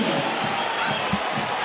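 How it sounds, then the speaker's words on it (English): Indoor basketball crowd at a 3x3 World Cup bronze medal game between Belgium and France, making a steady noisy roar and cheer, with faint ball bounces thudding underneath. "this crowd is going wild."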